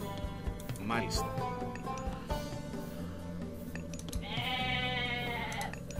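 Goats bleat in Age of Mythology, several short wavering cries rising over a busy game soundscape of clinks and background music, fairly close and moderately loud.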